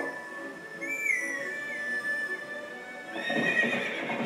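A horse in the Zelda Twilight Princess video game gives a clear, high whinny that rises and falls. Then a burst of galloping hoofbeats and game effects swells near the end.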